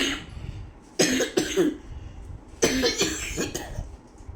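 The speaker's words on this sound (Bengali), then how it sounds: "গলায় হাওয়াটা গেলে খুসখুস করে কাশিটা বাড়ছে" A child coughs in two short bursts of harsh, dry coughs, a few quick hacks each, close and fairly loud in a quiet indoor room at night, with soft background noise between.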